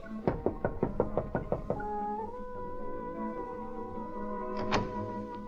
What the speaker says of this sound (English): found a door that said Miss Butterfield, and knocked